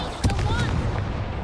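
Levioso spell cast in Hogwarts Legacy, a short magical burst with a sharp onset and a shimmering tail, set over a dense, steady bed of game combat noise.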